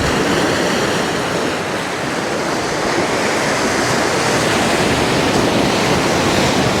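Surf and wind roar steadily along a beach at a resort, a loud, unbroken wash of breaking waves with gusts buffeting the microphone throughout.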